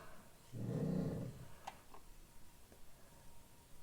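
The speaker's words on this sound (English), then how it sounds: "my dog's grumbling in the background, just making it difficult to concentrate" A dog gives one low, throaty grumble lasting about a second in the background of a quiet room, followed by a few faint ticks and small clicks.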